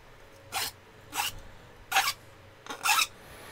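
Metal part being deburred with a hand file: four short, separate rasping strokes spaced about half a second apart, close by and fairly loud against a quiet background.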